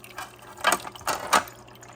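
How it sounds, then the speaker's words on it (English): A filter on a 20-gallon saltwater reef aquarium gives off soft splashing and trickling water, a few gentle gurgling bursts close by at low volume. "Makes a little water noise right there."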